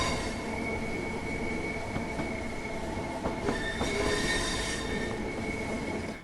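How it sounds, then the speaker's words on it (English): A Class 465 electric multiple unit running in Train Sim World 2, with steady rolling rumble and faint rhythmic clicks over the track joints, continuous and close, with a thin high whine throughout. "Yeah, the track joint sounds are lovely."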